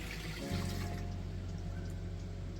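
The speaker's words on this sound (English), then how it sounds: "So I'll turn on the water, I'll go through that hose and come out right there." Water runs from a hose at an off-grid setup as a steady gush and trickle, starting with a soft thump and then continuing evenly close by.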